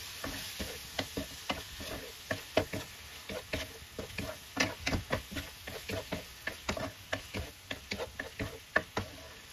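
Fish balls with seasoning, garlic and chili are stir-fried in a pan, making quick, rhythmic spatula scrapes and clacks over a soft sizzle, fairly quiet and close.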